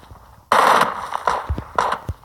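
Gunfire in the PUBG Mobile battle royale game, a loud burst of rapid shots starting abruptly and followed by a few sharper separate cracks.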